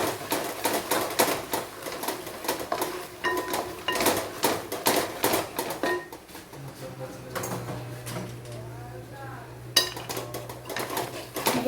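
Eggs with salt and pepper being whisked in a bowl, a rapid rhythmic clatter of utensil against the bowl that eases off midway, with a person talking in the background.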